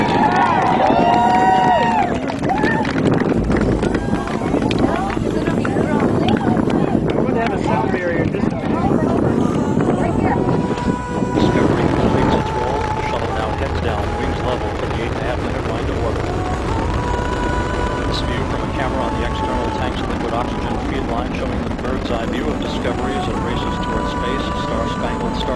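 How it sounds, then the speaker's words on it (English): A deep, loud roar with crackling rumble of Space Shuttle Discovery's booster ignition and liftoff (STS-121), heard alongside broadcast talk and crowd noise that fades to a steady distant rumble. "Booster ignition and liftoff of the Space Shuttle Discovery"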